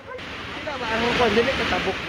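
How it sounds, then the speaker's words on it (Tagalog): Floodwater from heavy rain rushes and churns over a spillway in Valencia City, Bukidnon, with a broad, steady roar, close and fairly loud throughout. "Malakas na kasi ang ragasan ng tubig doon dahil sa malakas na mga pag-ulan"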